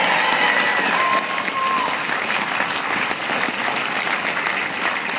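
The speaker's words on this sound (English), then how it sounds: "let's give her another round of applause" A crowd at an electoral reform rally applauds loudly and steadily, with a dense wash of clapping and a few cheers or whistles near the start.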